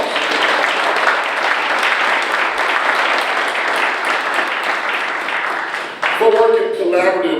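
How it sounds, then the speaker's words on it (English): Sustained applause from a county government audience fills the room, steady and dense throughout, then thins toward the end as a voice begins to speak. "give them another round of applause"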